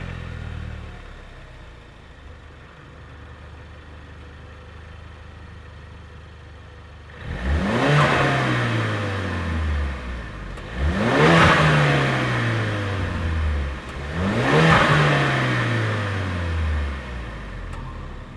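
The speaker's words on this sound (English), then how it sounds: "you guys have gotten a chance to hear the sound of the Mountune recirculation valve in as opposed to with it out" A car engine fitted with a Mountune recirculation valve idles quietly, then revs hard three times, each rev rising and falling in a smooth, loud sweep, with no talking.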